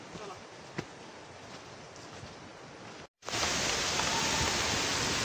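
Heavy water noise at the Devkund waterfall in the rain: a steady wash of rushing, splashing water that jumps to a louder, fuller roar after a brief break partway through.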